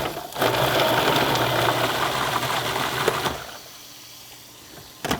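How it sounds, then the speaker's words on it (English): A blender or food processor buzzes steadily as it liquefies hot peppers for a simple sauce, running loud and continuous for about three seconds before cutting off and leaving a quieter tail. "I'm just going to buzz these in the blender or the food processor until they're"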